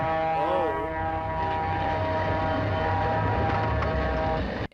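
Old-style diesel locomotive air horn, a harsh, dissonant multi-tone blast sustained for several seconds over engine rumble, loud and close, cutting off abruptly at the end.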